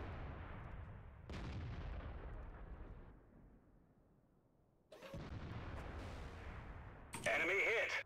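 A few booming artillery shots in World of Tanks, each a sharp blast that decays into a low rumble, heard against a quiet background.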